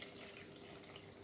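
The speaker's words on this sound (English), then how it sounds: "So then we take one of my bowls right here and we pour the water" Hot water pouring steadily into a kitchen bowl, a continuous soft splashing stream at close range with no talk.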